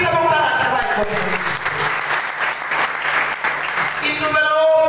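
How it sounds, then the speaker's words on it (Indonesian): A church congregation breaks into dense, close applause in the middle of a sermon, with a voice speaking before the clapping swells and again as it fades. "Beri tepuk tangan terbaik buat Tuhan."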